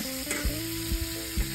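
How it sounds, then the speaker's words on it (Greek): Capers and olives sautéing in a hot pan give off a steady sizzle, with a few soft thuds of a spoon stirring them, close and alone with no voices. "Θα σοτάρω για λίγο."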